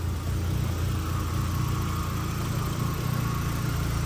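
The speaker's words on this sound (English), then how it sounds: "There we go, car's running." An MK1 car with a swapped-in 1.8T engine idles steadily close by, a continuous low rumbling drone with even vibration and no talking.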